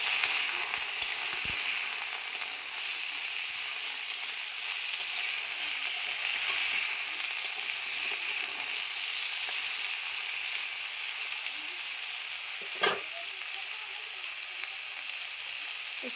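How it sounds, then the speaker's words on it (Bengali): Potatoes fry in a hot pan with a constant bright sizzle, joined by an occasional clink of a utensil stirring; no one speaks over the steady crackle. "আলুগুলো ভালো করে একটু ভেজে নেব।"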